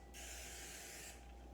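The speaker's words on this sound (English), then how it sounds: "And I'm going to lightly give it a spray." Cooking spray hissing onto a baking pan while making maple Rice Krispie squares, one steady aerosol burst lasting about a second, close and fairly quiet over a low background hum.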